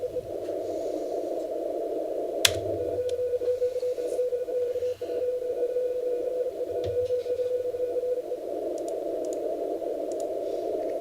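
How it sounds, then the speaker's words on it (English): A ham radio's own transmission returning as an echo on the 15 meter band at sunrise, a steady continuous tone with brief keying breaks and a sharp click, heard over faint static. "I'm hearing my echo in New York."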